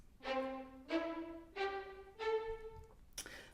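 Four detached Cinematic Studio Strings spiccato notes, rising step by step, played quietly and evenly spaced, followed by a brief noisy burst at the end.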